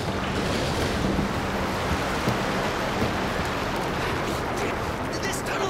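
Rushing water floods a tunnel in an animated series, a loud continuous broadband roar and hiss throughout, steady and close.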